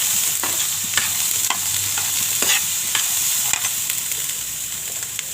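Pea filling for matar kachori is stirred and roasted in a pan over low heat, soft steady sizzling under repeated scraping strokes of a spoon, close and fairly loud, with no talking.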